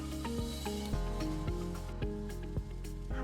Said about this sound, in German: geben Zwiebeln und Knoblauch dazu und braten das Ganze kurz an